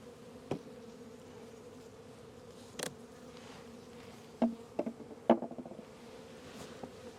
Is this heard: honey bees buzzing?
yes